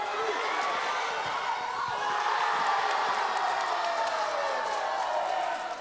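Parents in the stands at a school indoor-court game cheer and whoop in a steady, lively roar, with scattered claps and shouts rising slightly midway before tapering off.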